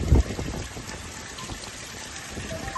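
Heavy rain pours down in Isvariya village, Kutiyana, Porbandar, Gujarat, a steady broadband hiss of falling water with a brief dull thump at the start and no voices.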